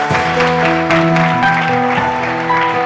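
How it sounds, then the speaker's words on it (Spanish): A church congregation breaks into loud, sustained applause during a worship service, the clapping blending with steady sustained musical tones throughout. "Un fuerte aplauso al Señor."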